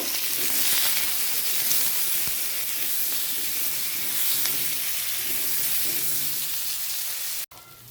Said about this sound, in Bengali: টমেটো আলু ভাজা হলো